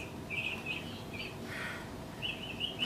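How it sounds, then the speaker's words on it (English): Small birds chirp in short, thin bursts at moderate distance over a low, steady background rumble. "I can hear the birds chirping."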